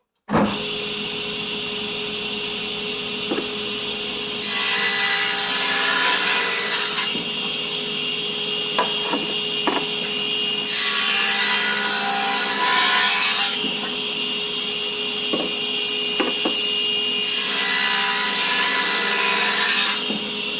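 Table saw cutting a 15 degree bevel in wood with the blade about 1.25 inches high and the guard on, three loud sustained cutting passes separated by quieter motor hum and small knocks.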